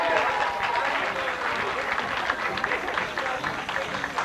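Concert audience applauds a returning singer at a 1992 show, dense sustained clapping from a large crowd with scattered cheers, loud and continuous.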